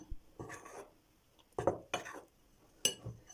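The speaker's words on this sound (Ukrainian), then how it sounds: "У борошно додаю ванілін та розпушувач. Та розмішую." Flour mixed with vanillin and baking powder is stirred in a bowl, giving a few soft scraping and clinking strokes in separate bursts, close and fairly quiet.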